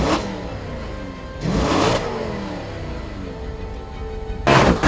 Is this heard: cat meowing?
no